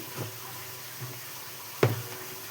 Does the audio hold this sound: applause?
no